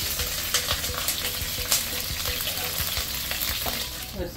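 Dried red chilli, curry leaves and green chilli are stirred in hot oil with mustard seeds for a Kerala puli inji, giving a busy crackling sizzle broken by repeated light spoon taps against the pan. No voices.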